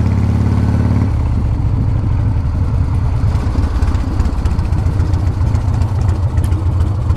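A 1982 Harley-Davidson FXR Shovelhead V-twin idles with a loud, close, steady low throb and an uneven lumpy rhythm throughout.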